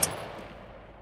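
A single gunshot in the esports shooter PUBG, a sharp crack at the very start that decays into a fading rumble over about a second, with no talk over it.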